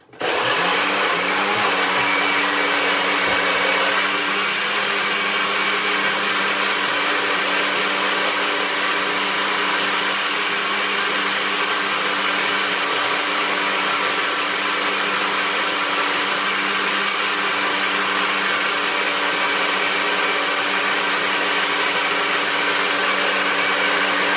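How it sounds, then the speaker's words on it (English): A blender roars continuously at full power for a long stretch, a loud, steady whirring grind with no talking. "So we're going to blend up this smoothie. We're going to make some noise"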